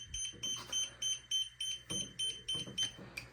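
Repeated high electronic beeps from the inactivity timer alarm on a Freewing PJ50T twin 70mm EDF RC jet, sounding in a steady rhythm of about eight short pulses over a low background hum.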